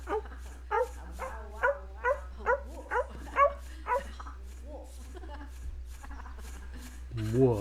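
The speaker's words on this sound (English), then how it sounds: "How is this dog playing the video game?" A dog in a video game barks in a rapid series of about nine evenly spaced yips and woofs, fairly close and clear, followed by a quieter stretch and a brief low sound at the end.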